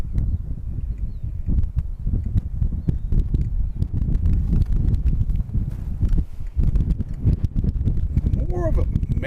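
Outdoor wind buffets and rumbles across the microphone for the whole stretch, steady and fairly loud, with someone talking over it throughout.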